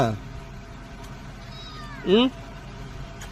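A cat meows at home in a few short, clear calls, one louder near the middle and another at the start, with a quiet room between them.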